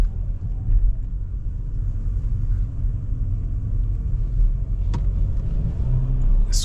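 A car driving through London at night, its engine and road rumble a steady low drone throughout with a brief click near the end, heard from inside the cabin.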